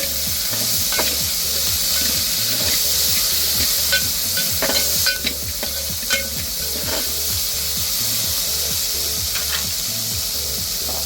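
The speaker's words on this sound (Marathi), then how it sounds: "1-2 मिनिटं हे सर्व मिश्रण परतून घ्यायचं।" A green pea and coriander mixture for a pea thecha is sautéed and stirred in a hot pan. A continuous close sizzle runs under repeated scraping strokes of the spoon.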